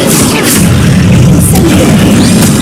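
Explosive Confringo spell effects in the Hogwarts Legacy video game produce loud, continuous booming blasts with crackling bursts, dense and overlapping throughout.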